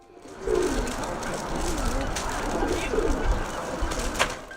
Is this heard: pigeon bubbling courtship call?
yes